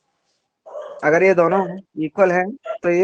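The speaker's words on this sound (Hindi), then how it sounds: "कुत्ते भौंक रहे हैं शायद आपके उस तरफ।" Dogs bark somewhere off to one side, loud yapping bursts in quick succession mixed in with a person talking over them.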